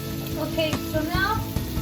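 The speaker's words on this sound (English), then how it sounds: "Can you hear that sizzling?" Chicken breast with rosemary and thyme sizzles and spits steadily in a hot pan, a loud continuous frying hiss with a few sharp pops and stirring scrapes.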